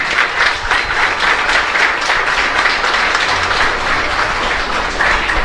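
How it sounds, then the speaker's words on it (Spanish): Sustained, loud applause from a congregation at a Catholic Mass for a church choir, dense steady clapping filling the space evenly from start to finish with no talk over it. "Un fuerte aplauso para ellos."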